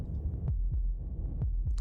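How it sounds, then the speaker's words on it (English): Heartbeat from the video game Slay the Princess: deep, muffled thumps in a slow steady rhythm, about four beats, loud and close against a low humming backdrop, with no voices. "That was the sound of a heartbeat"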